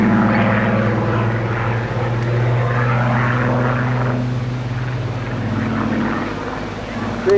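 A Spitfire with a Rolls-Royce engine flies a display at the Bournemouth Air Festival, its steady propeller drone loud and continuous throughout, with voices talking underneath.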